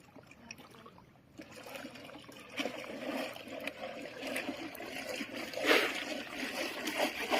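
Sea waves washing in at Sumpot Beach in Dimataling, Zamboanga del Sur, a soft trickling wash that swells louder toward the end, with no voices.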